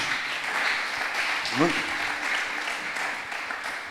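A church congregation clapping in praise during a sermon, a continuous broad patter of many hands, with a voice rising briefly over the applause midway.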